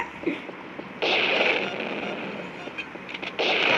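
Video game gunfire from Payback 2: loud, dense bursts of shots and blasts fill the clip, jumping louder near one second and again toward the end, with a possible voice underneath.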